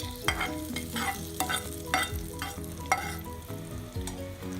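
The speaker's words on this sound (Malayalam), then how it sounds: "നമുക്ക് ഈ കടുക് പൊട്ടിച്ചതും കൂടി ഇതിൻ്റെ കൂട്ടത്തിൽ ചേർക്കാം" Tempered mustard seeds stirred into Kerala-style kappa biryani in a hot pan, with a steady sizzle of frying under repeated scraping strokes of a spoon at an even rhythm, close and moderately loud.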